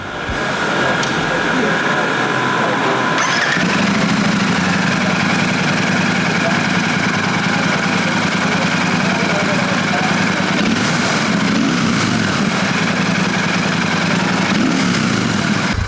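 A Royal Enfield Shotgun 650 parallel-twin motorcycle with a 270-degree crank idles with a steady, loud, close mechanical drone that holds evenly throughout, with voices nearby.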